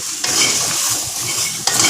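Okra stir-frying in a pan for a Tamil-style vendakkai perattal, with a steady sizzle and scraping stirs of a utensil against the pan, plus a couple of sharper clinks.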